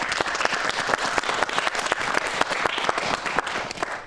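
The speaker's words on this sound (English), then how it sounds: "Let's give them another round of applause" An audience applauds a group of children's actors after their emotion-acting skits, a dense, steady wash of many hands clapping close by that carries on evenly from start to finish with no voices over it.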